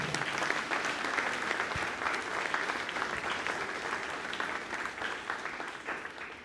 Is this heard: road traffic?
no